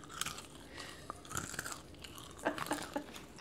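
Someone biting and chewing a quesadilla burger close to the mic, with wet crunchy bites and mouth sounds in an irregular rhythm, no speech.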